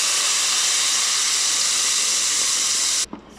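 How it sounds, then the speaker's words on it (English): Cumin seeds and red chilies sauteing in hot oil in a pan, a loud, steady, dense sizzling hiss that cuts off abruptly near the end with a faint clatter. "Just give a quick saute to it"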